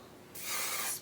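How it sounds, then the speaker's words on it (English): Hairspray is sprayed onto wavy hair in one short, close hiss lasting about half a second after a brief quiet moment. "grab your hairspray. Don't move. Spray it like crazy."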